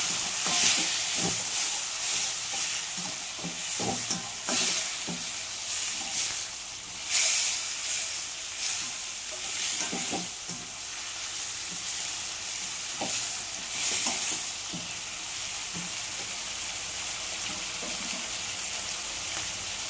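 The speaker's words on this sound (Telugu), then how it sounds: "ఆనియన్స్ బాగా వేగిపోయి టమాటా ముక్కలు వేసేసుకుంటున్నాను." Tomato pieces sizzle and fry in a pan with well-browned onions, a steady close hiss with irregular stirring clatters and occasional louder bursts throughout, with no talking.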